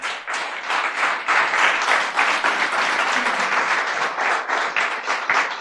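A congregation claps at a church celebration of the Cruzada Cristiana de Occidente federation for Pioneer Day, giving loud, lively applause with uneven surges that carries on throughout.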